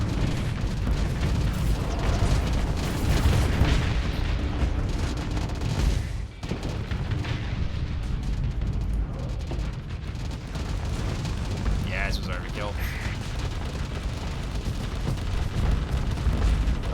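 Fast missiles striking and exploding during a space battle in the game Starsector, a dense, continuous roar of rumbling blasts and pops that dips briefly midway, then resumes with a few sharp high bursts.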